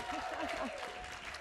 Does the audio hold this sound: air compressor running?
no